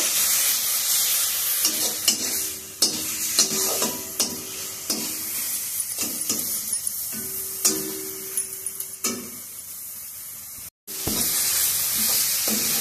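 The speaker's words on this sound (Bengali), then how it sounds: "ফুলকপির সঙ্গে ভালোভাবে মিশিয়ে দেব।" A spoon stirs a cauliflower paratha filling mixed with roasted cumin and fennel powder in a hot pan, repeated scraping strokes and soft ticks over a faint sizzle, close and steady with no voices.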